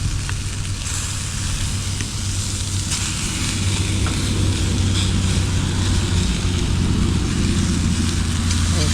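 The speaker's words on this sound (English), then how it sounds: "I'll sear the boudin." Boudin sausage searing alongside vegetables outdoors at a Louisiana state park, a steady broad sizzle running continuously over a low rumbling background, with no talk.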